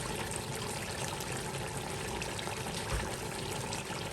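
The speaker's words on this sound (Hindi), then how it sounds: "अब मैं डालूंगी उसमें चावल" Rice is poured into a pot of boiling water while cooking chicken biryani, a continuous splashy, bubbling pour held steady at close range, with one brief thud near the end.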